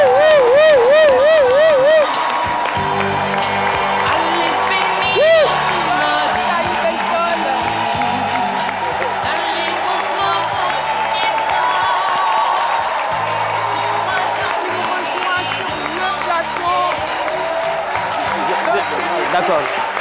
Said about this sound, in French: J'exige un déluge d'applaudissements